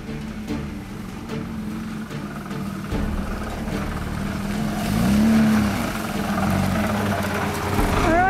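A Volkswagen Passat labours over rough, difficult road sections, its engine droning steadily with bumps and rattles throughout, swelling louder toward the end.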